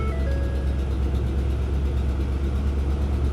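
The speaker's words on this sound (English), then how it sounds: "Got an exhaust leak." A car engine idling with an exhaust leak, a steady low rumble that holds unchanged throughout and sounds close.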